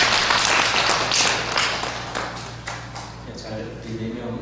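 A church gathering claps together, with crisp claps loud at first and then thinning and fading, while a voice talks over the applause and a low hum runs underneath.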